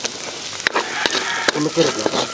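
Onion and carrot sautéing in a pan for chicken Manchurian, a steady close sizzle with brief stirring scrapes and clatters throughout.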